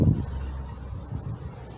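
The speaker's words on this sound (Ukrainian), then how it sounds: "Це вже другий день такий вітер." Steady gusting wind in a vegetable garden rumbles and buffets against the microphone, a low, continuous roar with no voices.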